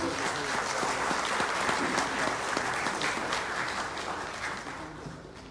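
Audience applause fills a lecture hall at a conference on economics, steady dense clapping held for several seconds at fairly close range, then tapering slightly toward the end.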